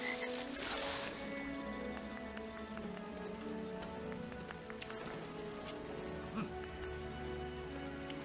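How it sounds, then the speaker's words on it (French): Frogs croak in water in a LEGO Harry Potter video game, repeated low ribbing calls layered over a steady patter like rain, with a brief splashy burst near the start. "Les grenouilles dans l'eau, quel intérêt?"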